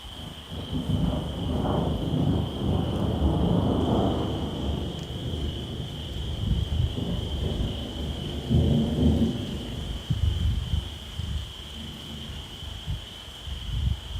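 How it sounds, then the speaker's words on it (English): Thunderstorm in Michigan at night, with low rolling thunder rumbling through the first ten seconds and steady rain starting to fall, plus a constant high insect drone behind it. "Oh, got some good lightning happening here. Just past 1. Rain's starting to fall, you can hear that too."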